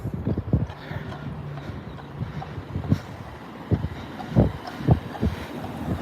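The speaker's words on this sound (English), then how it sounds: "Got a horse and buggy." Horse hooves clip-clop at an irregular pace as a horse-drawn carriage goes by outdoors, moderately close amid wind noise on the microphone, with no talk.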